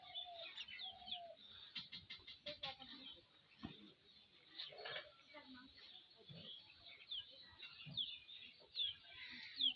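A chicken clucking in short bursts at moderate distance, mixed with other bird chirps, while people shout and talk over it in a noisy outdoor comedy scene.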